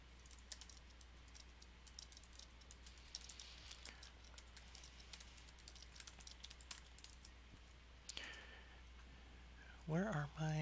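Rapid clicking of a computer keyboard runs throughout, close and fairly quiet over a low hum, with irregular bursts of keystrokes; a voice speaks briefly near the end.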